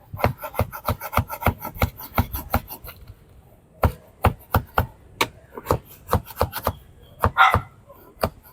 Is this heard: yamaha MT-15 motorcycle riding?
no